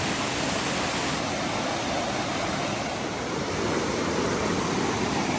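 Creek water rushing near Upper Sols Creek Falls in North Carolina, a dense, steady broadband roar that fills the whole stretch evenly with no voices.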